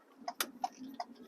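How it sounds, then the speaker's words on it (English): Turn signal blinker of a Ford Transit Connect ticks in a quick run of sharp, evenly spaced clicks, fairly faint inside the cabin with no talking. "tick, tick, tick when you put the blinker on"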